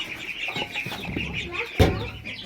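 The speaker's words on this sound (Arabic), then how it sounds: "تعالوا بقى نفطر الطيور ونشوف البط مع بعض" Ducks and other poultry are fed, with rapid clucking and short calls close by. A louder burst comes near the end, with a person's voice faintly mixed in.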